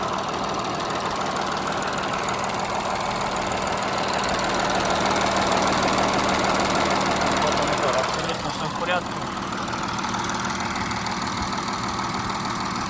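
Audi A6 Allroad 3.0 TDI diesel engine running steadily with a continuous close, even rumble and a faint shift in tone near the end.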